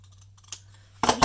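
Paper copies being cut with scissors, a couple of short crisp snips standing alone in a quiet room, the last pair of cuts closer and louder.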